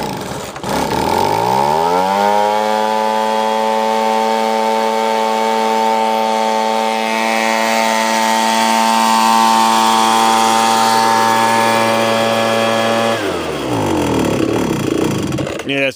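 A Ryobi BP42 gas leaf blower with a freshly adjusted carburetor runs roughly at a loud, steady two-stroke drone for about eleven seconds, its pitch sagging and wavering before it winds down near the end.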